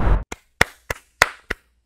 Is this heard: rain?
no